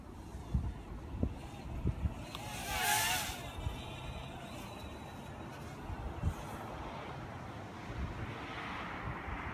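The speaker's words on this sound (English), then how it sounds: "A little windy out tonight." Wind gusts buffet the microphone during a night flight of a Huiying Toys HY-852 quadcopter outdoors, a steady rushing roar with scattered low thumps and a brief louder swell, no voices.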